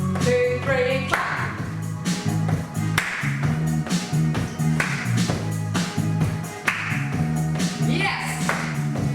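Rhythmic hand claps in a group exercise routine done while walking on the spot, landing on the beat over loud upbeat music, with a voice counting and calling moves.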